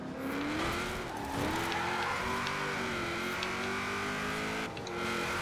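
A Ford Focus RS in Forza Horizon 4 holds a loud, steady engine drone with shifting pitch as it engine-brakes, a brief dip and recovery midway, with faint tire noise and no talk.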